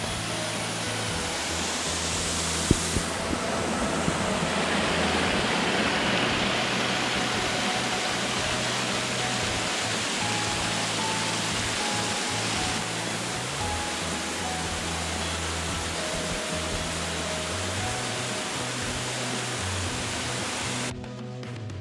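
Continuous roaring rush of water from a waterfall in Tasmania, steady and loud throughout, with no voices.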